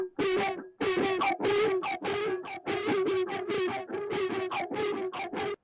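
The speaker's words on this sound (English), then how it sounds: "Another synth that was mangled with guitar distortion and then auto pan." A synth mangled through guitar distortion with delay and auto pan plays a dense, rhythmic string of gritty, buzzing stabs. The hits are loud and come in quick succession, alone with no voices.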